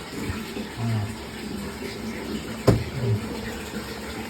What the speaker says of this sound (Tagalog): Ngayon, bubuksan na natin yung drain.